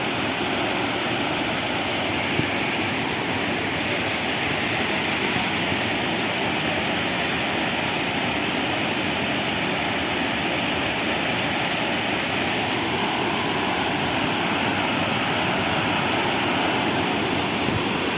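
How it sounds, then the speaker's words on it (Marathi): Waterfall at night in the Konkan region, a steady, loud roar of falling water filling the scene without pause or change. "तर असो आमचा हा धबधबो हो बघा"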